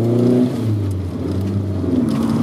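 A 1983 VW Rabbit GTI fitted with a big brake kit drives along back streets, its engine droning steadily with a shifting tone as it accelerates, loud and close from inside the car.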